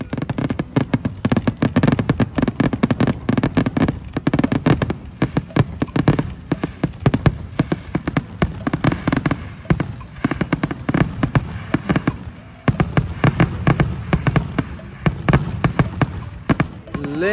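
Fourth of July fireworks over a beach, a long, dense barrage of booming bursts and crackling that continues loud and steady throughout, with crowd noise underneath and a brief lull before the bangs pick up again.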